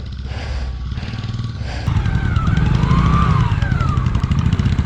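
Motorcycles labour along a rough mountain road in Spiti Valley, engines loud and close, a steady throbbing roar that rises and thickens partway through as the bikes pull ahead.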